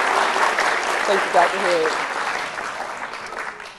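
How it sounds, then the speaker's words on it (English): Steady applause from a crowd at a Founder's Day convocation fills the whole stretch, with a voice speaking briefly over the clapping. "please give her a round of applause"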